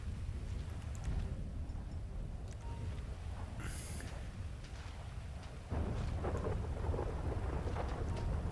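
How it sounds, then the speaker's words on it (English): A thunderstorm in Grand Theft Auto V gives steady rain hiss under deep rolling thunder that swells louder partway through, with no voices heard. "The thunder's fucking annoying."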